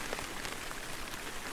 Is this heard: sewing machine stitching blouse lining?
no